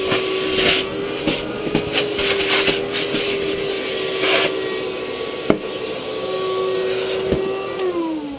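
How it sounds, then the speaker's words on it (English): A vacuum cleaner runs steadily throughout with a sustained motor whine, in a room where marble-eye animals are kept and bred, with a sharp knock partway through and the pitch shifting near the end. "Almost dropped my vacuum."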